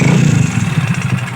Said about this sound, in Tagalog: connecting rod talaga ang tunog